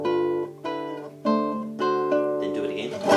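A classical guitar plays a short phrase from Albéniz's Sevilla, four or five plucked notes and chords ringing in sequence, clear and close, with the last one decaying into a brief strum.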